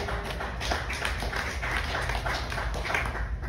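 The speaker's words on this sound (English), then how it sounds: "You can clap for that." A church congregation clapping during a sermon, a steady, fairly dense patter of many hands in a reverberant room over a low rumbling background.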